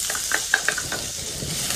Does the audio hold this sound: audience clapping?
no